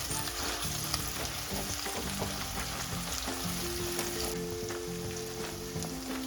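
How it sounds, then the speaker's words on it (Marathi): Curry leaves crackling in hot oil for a tomato-onion base for sprouted moth bean (matki) curry, a continuous close sizzle with soft stirring and scraping beneath it. "आता कढीपत्त्याची पानं आपण यात टाकायची आहेत लगेचच तेलामध्ये कढीपत्त्याची पानं टाकली की खुसखुशीत होतात"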